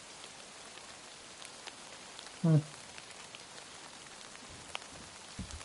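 Steady rain falls in Metro Exodus on PS5, a soft continuous hiss of drops spread evenly throughout, with one short murmured voice briefly rising over it.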